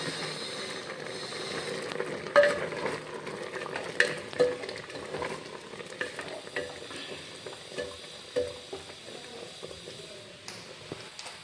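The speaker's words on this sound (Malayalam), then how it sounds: "ഇളക്കി കൊടുക്കാം" A spoon stirs a grated coconut mixture in a pan, giving a series of soft scraping strokes in an uneven rhythm over a quiet background hiss.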